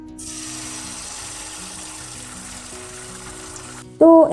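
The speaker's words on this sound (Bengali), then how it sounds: "এবারে চলুন তাহলে একে একে মালপোয়াটা ভেজে নেওয়া যাক" Malpua frying one by one in hot oil makes a soft, even hiss that holds steady, then stops as a brief tonal chirp sounds at the end.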